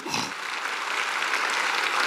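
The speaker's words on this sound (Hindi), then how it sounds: "मैं चाहूंगा इनके लिए एक जोरदार तालियां" A crowd at a Star Sapphire Show gives loud, dense applause that swells and holds steadily, close and alone, after a brief moment of speech at the start.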